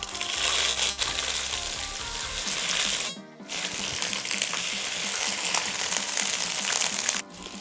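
Crushed ginger dropped into hot coconut oil for a fish-head curry, setting off a loud, dense sizzle and crackle that breaks off briefly twice, then resumes just as fiercely.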